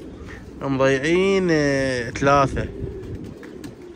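Pigeons coo softly in the background, a low, throaty murmur that sits beneath someone speaking loudly and close to the microphone through most of the stretch.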